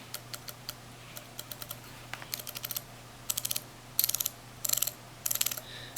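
The rotating bezel of a Citizen Orca BL0016-04L dive watch clicks close up in quick ratcheting bursts, first sparse single ticks, then rapid clusters of four to six crisp clicks, over a faint steady hum.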